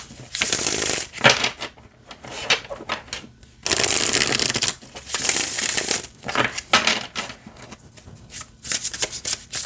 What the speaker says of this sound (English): Yeah, it still shuffles really nicely this way.